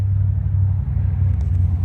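A car passes outside a home, heard indoors as a steady, low, fairly distant engine rumble with no talking.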